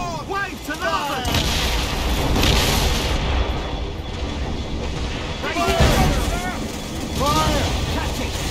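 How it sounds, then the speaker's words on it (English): Mortar and cannon fire in a naval battle in Assassin's Creed Rogue, heavy booms and rumbling blasts layered over constant battle noise, with shouting voices throughout. "Firing mortars!"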